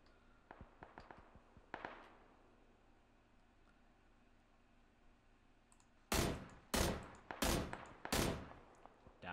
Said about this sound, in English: I'm actually going to try to snipe.